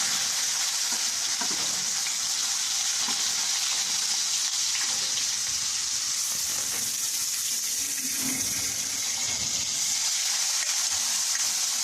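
Pieces of cinnamon stick, along with peppercorns and cloves, fry in hot oil for a mixed vegetable dish, giving a steady, close hiss of sizzling with small crackles and faint clinks throughout.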